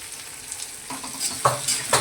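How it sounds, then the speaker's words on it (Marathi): Spice masala with onion, chili, turmeric, coriander powder and salt sautéing in a pan, a quiet sizzle broken by a few sharp stirring scrapes and clatters from a spoon against the pan. "मसाला परतताना मसाला पटकन परतला जातो मिठाने"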